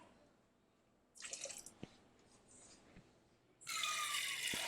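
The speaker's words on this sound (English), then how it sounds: "Add some water to it." Water poured from a can into a pot of black beans, quiet splashing and trickling close by, starting in short bursts and then settling into a steady louder pour near the end.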